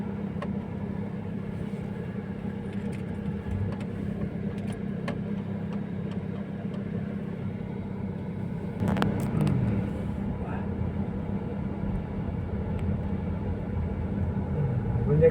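Car engine rumbling at low speed as it drives into the grounds of Rajathani Asoke in Ubon Ratchathani, a steady close cabin drone with a slight rise partway through, under intermittent talk.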